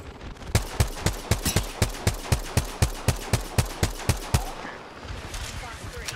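Gunfire in Apex Legends striking the player, a rapid, evenly spaced string of about twenty sharp, loud shots over four seconds, followed by quieter game noise.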